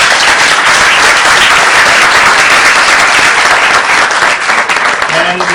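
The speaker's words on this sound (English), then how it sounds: "You deserve a bigger round of applause." Dense, sustained audience applause at a bird-race award function, loud and steady throughout, with a voice starting to speak faintly near the end.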